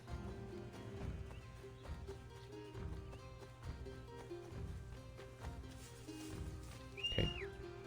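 Hooves of a horse in the Assassin's Creed video game clip-clop in a steady rhythm, close and fairly quiet, with a whinny near the end over faint game ambience.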